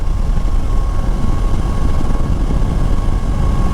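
A motorcycle being ridden in traffic gives off a loud, steady engine and wind roar, constant and close throughout with no talking.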